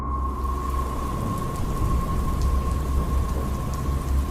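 Heavy rain pours steadily through a thunderstorm in a Bangla horror cartoon, with a deep continuous rumble of thunder beneath the dense hiss of falling water. The storm stays loud and close throughout, with no voices.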